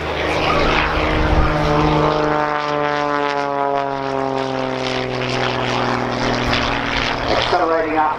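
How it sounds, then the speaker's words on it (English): An Xtreme Air XA41 aerobatic propeller aircraft performs unlimited freestyle aerobatics at an airshow, its engine drone loud and continuous with steadily sweeping pitch as it climbs and rolls, while an announcer talks over the public address throughout. "this aircraft is going to give a demonstration, ladies and gentlemen, of unlimited world-class level freestyle aerobatics"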